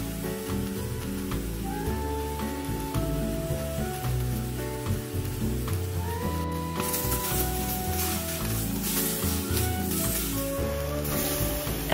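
Oxtails dropped into a hot pot for Hong Kong style borscht sizzle and crackle loudly and continuously, with background music playing throughout.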